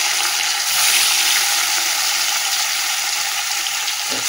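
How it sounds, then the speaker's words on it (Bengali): Fish fry in hot mustard oil, giving a dense, even hiss of sizzling that stays steady at close range, with a faint scrape near the end and no voices. "ওই মাছগুলো দিয়ে দিই। মাছগুলো ভাজা হবে"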